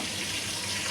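Water poured into a pot of boiling rice, a steady close rushing pour, fairly quiet, with no voices.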